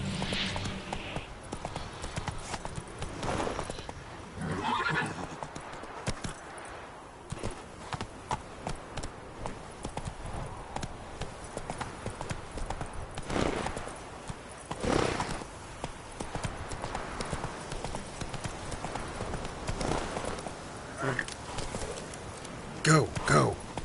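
Roach, the horse in The Witcher 3, gallops with rapid clip-clopping hooves and occasional neighs, someone talking over the steady running rhythm.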